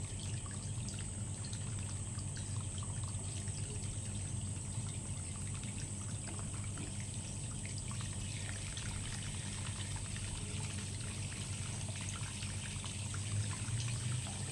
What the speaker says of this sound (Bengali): একটা সাইড দিয়ে এইভাবেই জলটা দিতে হবে।